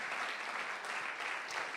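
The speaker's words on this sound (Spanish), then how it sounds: "Denle un aplauso al Señor." Church congregation applauding during a worship service, a steady dense clapping that fills the short moment without any voices over it.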